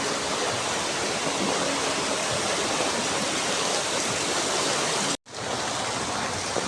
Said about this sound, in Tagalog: pahintuin mo na ang ulan